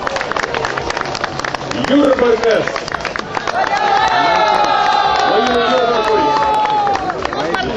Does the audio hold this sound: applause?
yes